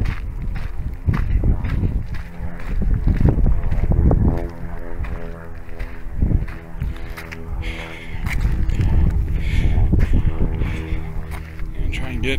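Gusty wind buffets the microphone in low rumbling surges on Flat Top Mountain's summit, with a person speaking intermittently over it.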